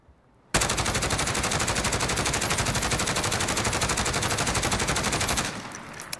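A SIG SG 553 Commando rifle fires a long unbroken full-auto burst in Call of Duty Modern Warfare, with rapid even shots that are loud and close, then an abrupt stop with a few mechanical clicks.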